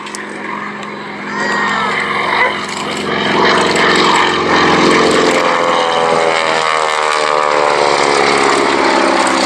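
A 7W Executive propeller aircraft at an airshow drones loudly and steadily. The engine note swells after a couple of seconds and holds a strong, continuous roar with shifting tones as it passes.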